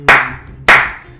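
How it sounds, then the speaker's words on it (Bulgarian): Two sharp hand claps about half a second apart, loud and close, keeping a simple beat with no talk. "На следващата ми шега ще трябва да пляскаш с ръце, да ми направиш бит."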